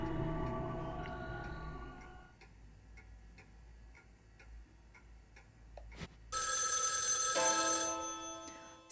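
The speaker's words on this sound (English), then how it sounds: "Suddenly the phone rings loudly, but I can't see it anywhere in the room." A telephone in a horror video game rings loudly and suddenly, a bright sustained electronic trill that bursts in after a quiet stretch of steady ticking.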